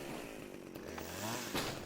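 Chainsaw running steadily and loudly in an audio-drama scene, its motor revving up with a shift in pitch near the end, heard alone without any talking.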